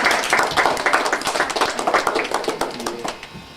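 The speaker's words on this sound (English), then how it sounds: "Another clap for Con, children." Schoolchildren in a classroom clap for a visitor, their hands giving a lively, uneven patter of claps that gradually thins out and fades toward the end.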